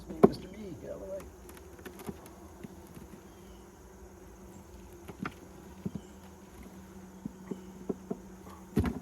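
Honeybees buzzing around an open hive during an October inspection, a steady low drone with scattered close passes and small knocks of handling the frames.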